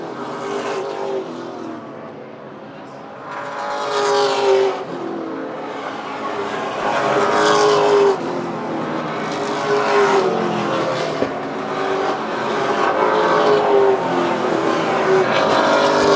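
Race cars pass on the track during the Coastal 200 race, a series of loud engine surges that rise and fade one after another, with revving and a brief tire squeal over a steady background roar.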